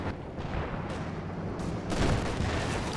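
Coordinated artillery barrage in Company of Heroes 2, a dense, continuous rumble of shell fire and blasts with a heavier surge of impacts toward the end, loud and steady throughout with no talking.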